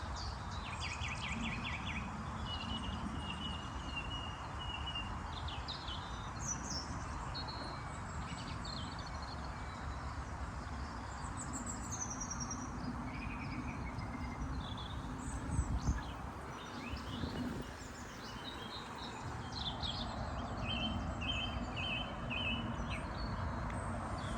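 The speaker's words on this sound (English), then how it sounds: "So again, just please listen to the bird song." Birds chirp and trill in scattered calls in spring in Shire Brook Valley, Sheffield, faint and fairly distant above a steady outdoor hum, with a brief rustle partway through.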